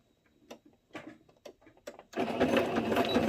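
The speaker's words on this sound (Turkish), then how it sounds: "Belirlediğimiz çizgi hattından dikiyoruz." A sewing machine stitches a tablecloth along a marked line: first a few separate slow clicks of the needle, then a steady fast whirring run of stitching, close and clear.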